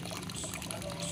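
Hot water from a wood-fired water geyser pours steadily in a continuous splashing stream, close up and moderately loud, with no talking.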